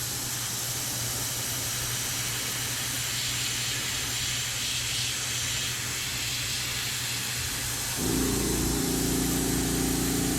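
An airbrush spraying paint gives a steady, close, broadband hiss that runs unbroken, with a low hum joining near the end.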